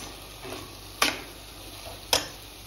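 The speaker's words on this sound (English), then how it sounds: "Give it a little mix" A prawn pulao mixture with squeezed lime is stirred in a pot, giving two distinct scraping clinks of the spoon over a soft steady sizzle.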